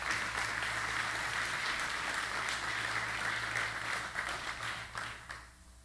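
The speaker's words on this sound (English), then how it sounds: "How about another round of applause" Steady applause from a church congregation during a Sunday service, many hands clapping evenly and fairly close for several seconds before tapering off at the end.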